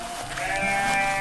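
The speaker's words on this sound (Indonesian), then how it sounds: "Domba yang lucu." A single sheep bleats in a short, wavering, nasal call, close and fairly loud, set in a cartoon farm scene with green grass.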